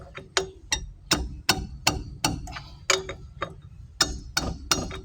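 A wrench tightens the wheel nuts on a car during a tyre change, making a steady series of sharp metallic ratcheting clicks and knocks, close by and fairly loud with no talking.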